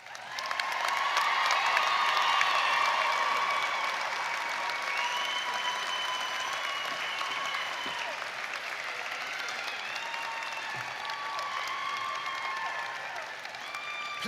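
A large commencement crowd at a university graduation applauds valedictorians, with loud sustained clapping mixed with cheers and whoops, swelling early and then continuing at a steady level to the end.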